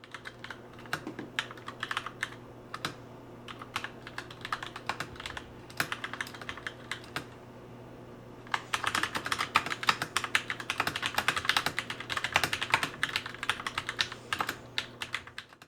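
Steady typing on an AZIO IZO Black Willow mechanical keyboard, soft muted clicks in a continuous rhythm that grows busier and a bit louder in the second half.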